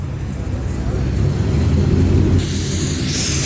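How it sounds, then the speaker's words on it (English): A Chevrolet Corvette C5 Z06 at a car meet rumbles with a deep, steady engine note close by, its low drone running throughout under a wash of background noise. "This C5 Z06 is looking good and sounding good."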